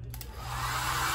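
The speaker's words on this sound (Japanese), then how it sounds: "このように動かして温風で熱を飛ばします" A hair dryer blows warm air into a Louis Vuitton bag, a steady close whooshing roar that switches on and quickly settles into a continuous loud hiss.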